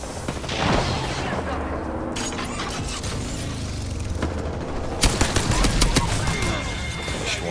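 Rapid gunfire from a battle royale shooter game, a dense barrage of shots with sharp bursts and impacts, loudest near the end, with no voices over it.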